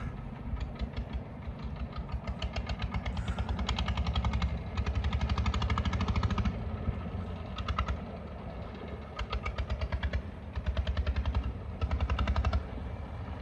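A boat engine chugs steadily as the vessel comes in on a river in Burma, a rapid, pulsing mechanical throb that stays loud and close throughout, rising and falling slightly in bursts.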